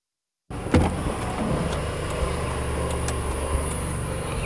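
Honda Stream family car's engine idles steadily while warming up after two weeks unused, a low, even hum with faint clicks, no talking.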